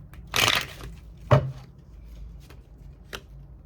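Tarot cards being shuffled by hand, a few quick riffling bursts and soft slaps spaced apart, close and fairly quiet with no talking.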